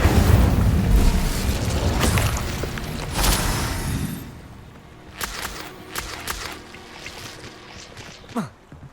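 Incendio fire spell blast in the video game Hogwarts Legacy: a loud, roaring burst that lasts several seconds before fading, followed by scattered sharp combat hits and whooshes.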